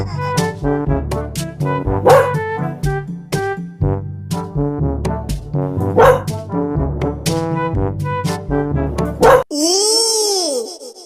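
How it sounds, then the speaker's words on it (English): Cartoon-style dog barks sound in a children's alphabet song, short repeated yips woven into a bouncy musical accompaniment, followed by a brief whistling sweep at the end. "D for dog."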